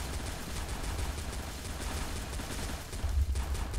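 Gunfire in a zombie shooter video game, the game CF Legends (Truy Kích TQ): dense, continuous rapid fire with a heavier low-end burst near the end, loud and steady throughout, with no talk.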